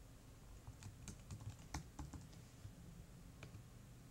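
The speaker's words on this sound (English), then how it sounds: "Type my password on off screen here." Someone types a password on a computer keyboard, the soft, irregular key clicks quiet and close, tapping in short uneven runs over a faint background hum with no talk.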